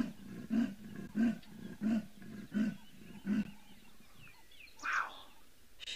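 A wild cat named Kuchava roars repeatedly to call Ntsumie, giving five loud, evenly spaced roaring calls about half a second apart, followed by a quieter pause and a couple of distant, higher calls.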